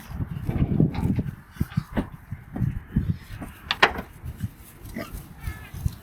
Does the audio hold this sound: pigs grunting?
yes